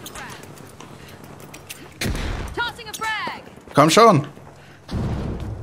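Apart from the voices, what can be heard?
grenade explosion in the video game The Finals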